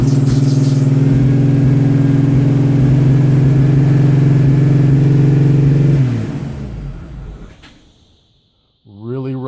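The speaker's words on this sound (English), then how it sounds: "Really rough idle and way too high." Jeep engine running after seven months idle, a loud rough high idle with strong humming drone that dies down after six seconds, then a brief crank or revving burst at the end.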